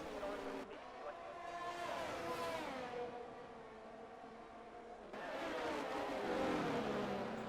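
McLaren race car engine in a racing game session at Monaco, a high-pitched whining drone that rises and falls through gear changes, with a commentator talking over it.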